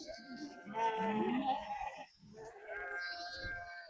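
A large flock of sheep with lambs, ewes and young being moved through a fence, gives two long bleats close by, one after another.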